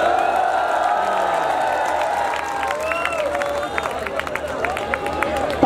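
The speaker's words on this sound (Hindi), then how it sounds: "तालियां कमजोर है" Crowd noise at a live lucky-draw broadcast, with a dense wash of cheering, whoops and scattered clapping that holds steady throughout, loud and close, with voices mixed in.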